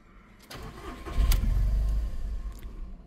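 A VW car with an unprogrammed transponder key cranks and catches, a loud engine rumble swelling after a short starter whir, then settling into a steady low idle for about two seconds.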